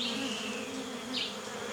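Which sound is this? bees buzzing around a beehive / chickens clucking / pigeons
bees buzzing around a beehive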